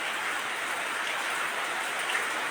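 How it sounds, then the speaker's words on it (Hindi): Steady rain falling during the rainy season at a house awaiting stone paving, a continuous even hiss with soft patter throughout, no voices. "लेकिन बारिश हो रही"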